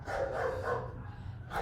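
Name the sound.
dogs barking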